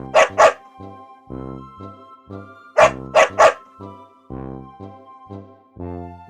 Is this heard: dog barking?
yes